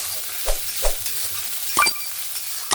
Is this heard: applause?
no